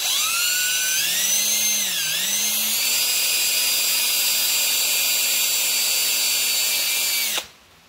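A power drill drills out rivets on a 1950 Farmall Cub tractor's identification plate, whining steadily and loudly, its pitch dipping briefly under load before holding steady, then cutting off abruptly near the end.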